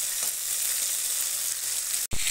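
Long beans frying in hot oil give a steady, loud sizzle throughout, broken once near the end by a brief sharp drop and crackle.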